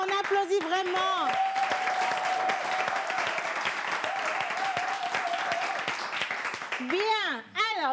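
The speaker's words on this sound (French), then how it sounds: "Plus fort que ça, on applaudit vraiment." An audience claps in a steady burst of applause, dense and close, while a voice speaks over it at the start and end.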